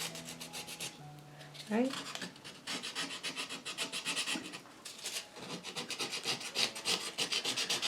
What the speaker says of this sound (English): So that's just a bit of sandpaper rubbing off the...